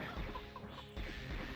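A Heretic enemy turned into a chicken clucks in short, quiet bursts over a low, rumbling game background.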